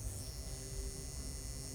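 A tattoo machine fitted with a magnum needle packing black ink into a realism piece, a steady, close electric buzz with a constant hum, alone and unbroken.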